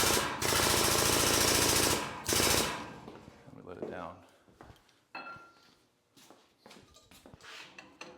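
A homemade pneumatic body puller for a 21-window VW Bus restoration is fed compressed air: a loud, harsh, rapid hammering burst, a pause, a second short burst, then quieter clanks and metallic knocks, with someone talking.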